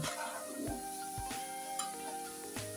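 Spiced masala with spring onions sautéing in a pan for a fish curry, a continuous close sizzle with a few soft stirring scrapes and clinks.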